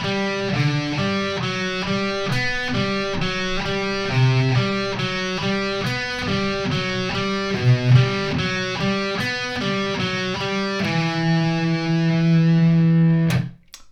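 Distorted electric guitar through effects plays the riff slowly, a steady chugging run of repeated notes ending on a held, ringing chord; no talking.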